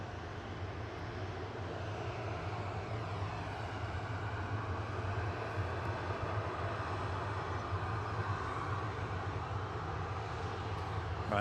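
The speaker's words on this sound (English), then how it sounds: "Virgin from JFK, GV-Ray A330-300 is coming in." A Virgin Atlantic Airbus A330-300 arriving at Manchester Airport from JFK makes a continuous low engine rumble with a broad roar on top, steady and moderately loud for about eleven seconds, with no voices.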